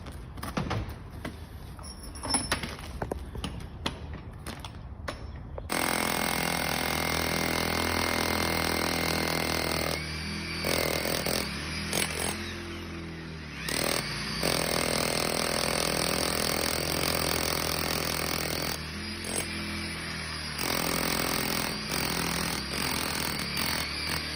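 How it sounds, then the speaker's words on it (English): A rotary hammer drills into concrete in long, loud, grinding runs, stopping briefly a few times before starting again, after some lighter knocking at the start. "But what we'll need is the roto hammer."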